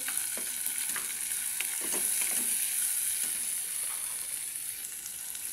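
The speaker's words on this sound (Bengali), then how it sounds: "এখন কালো জিরা দিয়ে দিলাম বাগারে। এগুলো হালকা একটু ভেজে নেব।" Black cumin seeds fry in plenty of hot mustard oil with green chillies and garlic for a katla fish belly bhorta, giving a steady bright sizzle close by and a few light stirring clicks, with no voices.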